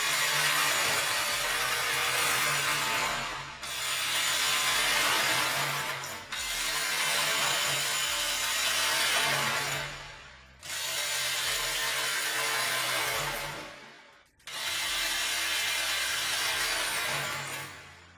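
Milwaukee M18 Fuel 2953 and Makita XGT GDT01 impact drivers driving bolts, slowed to half speed, giving a loud, dense hammering roar in repeated multi-second bursts separated by brief pauses, close up and without talk.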